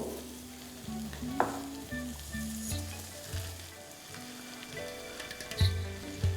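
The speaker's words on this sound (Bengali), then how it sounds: "এবার যে চালটা আমি ভিজিয়ে রেখেছি সেটা এখানে দিয়ে দেবো" Soaked rice tipped into tomato masala frying in a pan, bubbling sizzle with spoon stirs and scrapes against the pan and a few clinks, faint and close with no talk.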